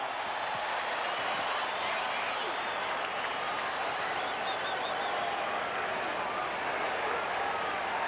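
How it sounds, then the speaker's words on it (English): A large baseball stadium crowd at a 1978 World Series game between the Yankees and Dodgers roars in a sustained, broad wash of cheering and applause, distant-sounding and continuous, with an announcer talking over it. "This crowd is going wild."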